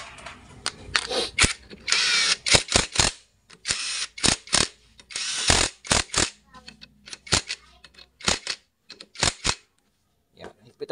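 A ratchet clicks in quick bursts as a bolt is tightened on a Honda CB 110 motorcycle during clutch work, with sharp close ticks separated by short pauses.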